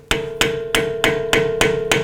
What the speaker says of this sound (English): We're just gonna use a flathead screwdriver and a small hammer just to push that back out.